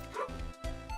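Puppies bark loudly at close range, with two quick yapping bursts and a short pause between them and no voice over them.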